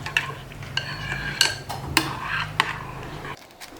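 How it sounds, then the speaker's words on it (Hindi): A spoon mixing lentil-dumpling ingredients in a bowl, with a few soft clinks and scrapes of metal against the dish and a low stirring rustle between them, close and fairly quiet, no talk. "चम्मच से आपने इन चीज़ों को मिक्स करना है"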